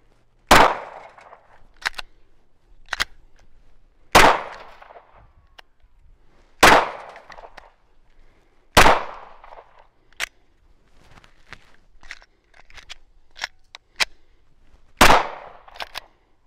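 A Glock 19 pistol fires several rounds, sharp loud single reports spaced a few seconds apart, each with a short echoing decay, with quieter clicks and handling noises in between.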